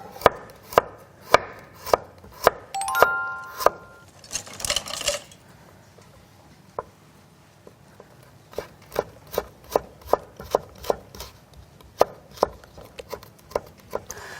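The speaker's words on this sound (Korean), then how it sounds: "그리고 여기에다가 당근도 같이 이제 채 썰어서" Knife julienning carrots and onions on a cutting board, a steady run of sharp, close chopping taps, with a brief scraping burst partway through and a short pause before the rhythm resumes.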